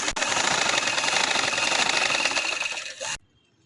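Sewing machine stitching fabric for a full-sleeve garment, a fast continuous mechanical whirring chatter for about three seconds that slows and stops abruptly, close and without talk.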